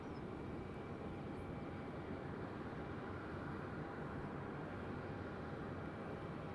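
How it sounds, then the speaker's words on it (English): An EasyJet airliner approaches Madeira Island Airport as a steady, faint broadband engine roar that holds without change and carries no speech. "Hold short because EasyJet is coming."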